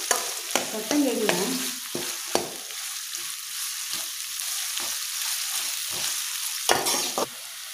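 Chopped onions frying and being stirred in a pan for a village-style fish curry, with a steady soft sizzle and several sharp scraping and clanking stir strokes near the start and end.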